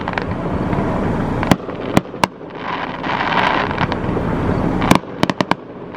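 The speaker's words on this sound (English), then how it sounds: "This is one of the better fireworks shows I've seen" A fireworks show bursting overhead on an evening outdoors, with sharp loud bangs and crackling pops in irregular clusters over a steady rumbling wash of distant explosions.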